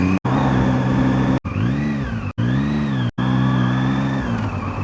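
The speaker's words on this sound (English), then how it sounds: "I am addicted to blipping the throttle." A Zontes ZT703-F motorcycle engine idles close by and rises and falls through several quick throttle blips, its revs swelling and dropping in an uneven rhythm, with a few abrupt cut-outs and no talk.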